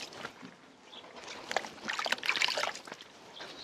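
Cucumbers are washed by hand in water for pickling, with soft sloshing, trickling and rubbing splashes close by that build to a busier burst midway, then ease off.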